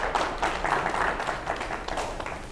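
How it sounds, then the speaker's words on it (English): Applause from a volunteer gathering crowd for Camille, steady moderate clapping of many hands throughout, somewhat muffled and at a middle distance. "Claps for Camille"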